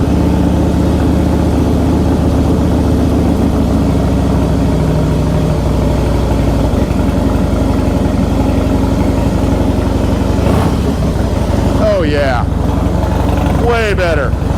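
A 2003 Harley-Davidson FXST fitted with Vance & Hines Big Shots exhaust, started cold with a little choke, runs with a loud, steady, rumbling idle throughout, with a couple of sharp revs near the end.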